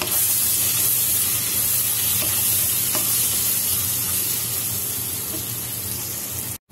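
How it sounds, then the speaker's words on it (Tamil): Tomatoes sauté in a pan of oil for a Kerala-style chicken roast, producing a constant dense sizzle and hiss with faint stirring scrapes, close and steady throughout. "நாம இப்போ தக்காளி போட்டுடலாம். தக்காளியும் நல்லா வதங்கட்டும்."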